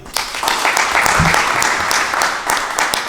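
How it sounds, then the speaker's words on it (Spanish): Audience applause for Mario at the close of a talk, a dense, steady wash of many hands clapping that fills the room from start to finish. "¿Le damos un aplauso a Mario?"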